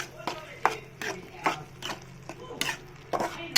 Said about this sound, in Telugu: మంచిగా కలపాలి